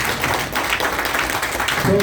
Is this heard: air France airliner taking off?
no